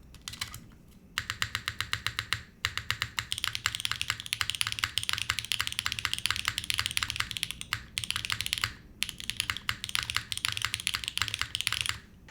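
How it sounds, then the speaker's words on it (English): Rapid, crisp clacking of keys on a Fuji75 mechanical keyboard in long, steady bursts with a few brief pauses, close and clear. "These switches sound really good, by the way."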